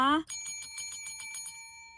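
A small lucky bell used in a tarot card reading is struck about seven times in quick succession after a voice, giving bright ringing tones that decay into a sustained close ring.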